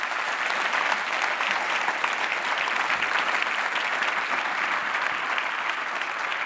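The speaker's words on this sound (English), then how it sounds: "Give them a great big round of applause." An audience at a welcome session claps in sustained, dense applause, steady and even throughout with no voices rising above it.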